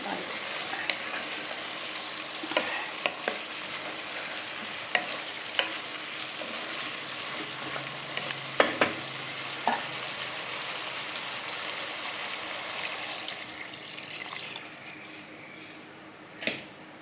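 Chicken chana gravy simmers and sizzles in a pan while a spoon stirs it, with scattered clinks and scrapes over a steady, soft bubbling hiss.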